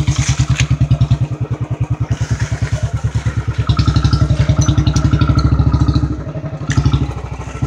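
A motorcycle rolls slowly in first or second gear along a forest trail in Bishnupur Lalgarh, its engine thumping in a steady close rhythmic pulse with faint clatter over the rough ground.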